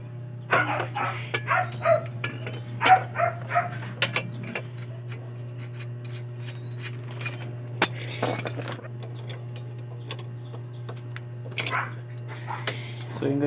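A dog barks outdoors in a quick run of sharp barks, then a few scattered ones, over a low steady hum while someone works on a Suzuki Sniper Fi 150 motorcycle's Takasago monoshock.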